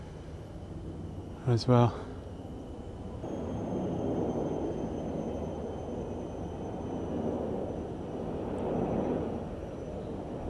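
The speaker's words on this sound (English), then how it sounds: "we're treated to an aeroplane" A broad, low rumble of an aeroplane swells in and lingers overhead for several seconds on Pulau Ubin, Singapore, with people talking over it.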